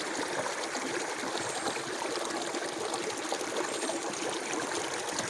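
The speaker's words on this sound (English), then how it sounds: "We thank God that we have this river because it supplies water in our farm." River water on a farm flows steadily in a constant broadband rush and trickle, close and even throughout, with no voices.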